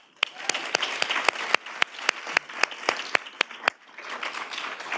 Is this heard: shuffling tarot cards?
no